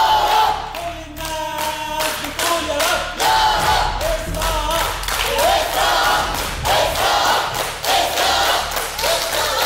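A quiz show studio audience cheers and shouts in loud, overlapping waves, with scattered claps and thumps throughout.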